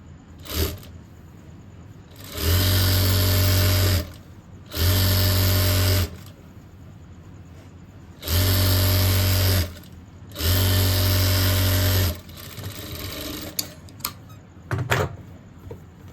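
A sewing machine runs a straight line of stitching along a folded fabric strip in four loud, close bursts, each lasting a second or two, with quiet handling clicks in the gaps.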